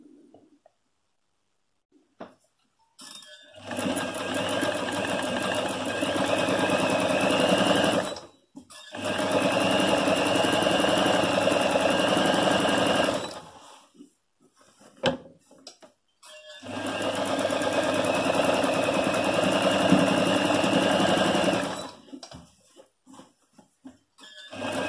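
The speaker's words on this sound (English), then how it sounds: "I'm doing it this way so that I can use this shorter side of my presser foot to help me with the edge stitching." A home sewing machine edge-stitches a men's dress shirt, running in three long steady whirring passes separated by short pauses and faint handling clicks, close and clear with no talking.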